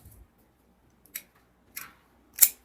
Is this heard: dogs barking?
no